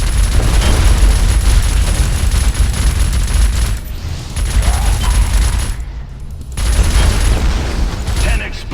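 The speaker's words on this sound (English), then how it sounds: "Explosion streak." Rapid gunfire and booming explosions from the PC shooter game Alien Rage, dense and loud throughout, with brief lulls and a game announcer voice calling out over the combat.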